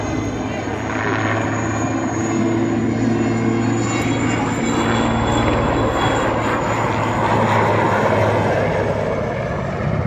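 An aircraft marked with a red cross flies overhead at an air show, its engine droning steadily and loudly throughout, with faint crowd sounds beneath.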